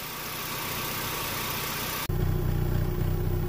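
A small four-cylinder engine in a Z24 idles with a steady, smooth, quiet purr on stock exhaust, its low rumble growing fuller and closer partway through.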